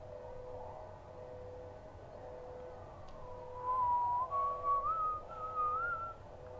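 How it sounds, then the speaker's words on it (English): A single siren-like tone rises and wavers in the distance in the video game Silent Hill 4, thin and faint, over a quiet low hum. "Sirens? In a city?"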